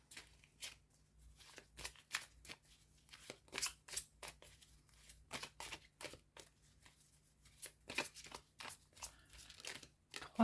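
Tarot cards shuffled by hand in a close, dry run of crisp riffling bursts and papery flicks, quick irregular clusters separated by short pauses, with no voices.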